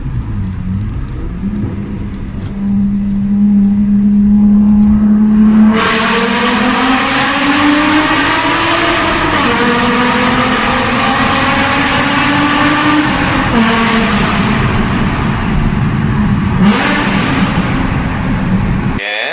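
A 1980s-era Alfa Romeo Busso V6 is revved repeatedly, its loud, rich engine note climbing and falling in several close, sustained blips with no one talking over it.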